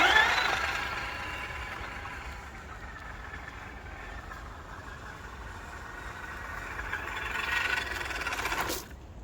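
A Tamiya CC01 1/10 scale RC car, a Mitsubishi Pajero body on trails, runs at full throttle with a steady, faint electric whine that swells near the end as it passes close, then cuts off.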